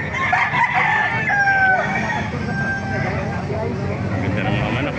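Roosters and chickens crowing and clucking at a busy Baliuag, Bulacan market, several overlapping crows rising above a steady crowd murmur and nearby traffic, with people talking throughout.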